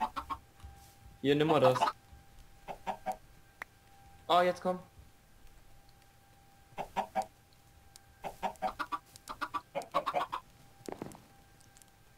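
Chickens cluck in the Minecraft video game, short bursts of clucking and squawks scattered between people talking, with a faint steady hum underneath.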